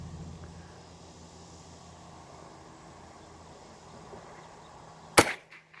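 An old, worn Winchester 1890 rifle chambered in .22 WRF fires a single sharp, close shot at a metal target near the end, following several seconds of quiet outdoor background.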